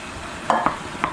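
Spoon stirring petite diced tomatoes and tomato sauce into cooked meat in a pan: a few soft scraping clicks over a quiet sizzling background, close and brief.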